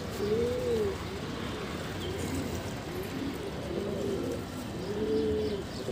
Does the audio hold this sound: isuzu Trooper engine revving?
no